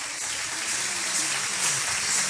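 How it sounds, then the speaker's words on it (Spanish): Audience applause at a business opportunity meeting in Guadalajara, honoring an executive's achievement: a dense, steady wash of clapping that holds at an even level for the whole stretch, with a faint murmur of voices underneath. "Fuerte el aplauso, fuerte,"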